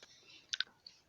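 Two quick, sharp mouse clicks close together, then one fainter click, soft and near over quiet room tone, as a post button is clicked.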